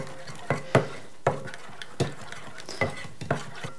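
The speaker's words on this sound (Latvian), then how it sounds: "Tagad šīs abas masas savienoju. To vajag darīt maisot," Melted blue cheese being stirred into chocolate in a bowl: a series of distinct scraping, tapping strokes of a utensil, close and clear, repeating roughly every half second with no voices.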